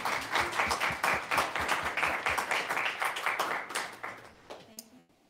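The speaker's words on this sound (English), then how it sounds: "let's give him a big round of applause" An audience applauds at a place and family history talk, sustained dense clapping for several seconds that thins out and stops near the end.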